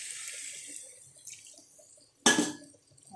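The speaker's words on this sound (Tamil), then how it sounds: "நம்ம கொஞ்சம் தண்ணி ஊற்றி கலந்துக்கலாம்." Water goes into a pan of chicken curry for a pepper fry: a soft trickle first, then a sudden louder splash that quickly fades to a faint drip.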